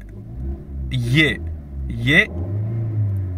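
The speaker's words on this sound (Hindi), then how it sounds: "गाड़ी को मैंने स्टार्ट कर दिया है।" A 2022 Maruti Brezza engine runs with a steady low rumble, rising in two brief revs about a second apart before settling back to idle.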